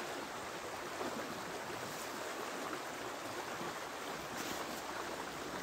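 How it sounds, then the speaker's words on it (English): Running water of a river in the Scottish wilderness, a steady broad rushing wash that stays constant and fairly faint throughout, with no talk. "It's just nice sitting, see down by the river. Something like that kind of sound of running water, isn't there?"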